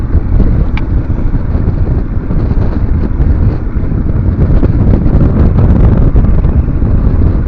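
Steady roaring wind buffets the microphone over the low rumble of a moving bass boat, loud and continuous throughout with no talking.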